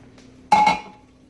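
Metal bundt pan handled in a kitchen, a single short clanking knock with a brief ringing tone that fades quickly against a quiet background.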